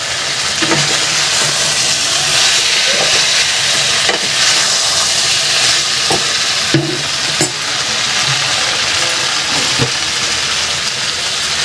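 Cauliflower florets go into hot spiced oil in a pan for a Bengali cauliflower and potato curry, raising a loud, steady sizzle and hiss with scattered stirring scrapes and clatters throughout, and no voices.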